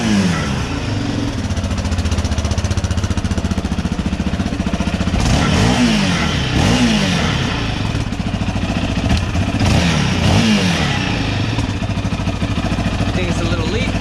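A four-wheeler engine runs loud and close with a rattling, shaking muffler, a steady clattering drone that rises in a few revs, with people talking over it.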